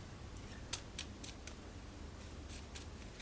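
Quick papery riffles of cards being shuffled, a handful of short crisp bursts spaced unevenly, quiet and close with no talking.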